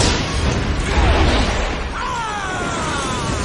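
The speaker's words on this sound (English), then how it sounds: "There's an explosion in the Grinch." Explosion in Jim Carrey's Grinch film: a loud, rumbling boom with crackling and shattering debris, followed by a sustained noisy roar and whistling streaks.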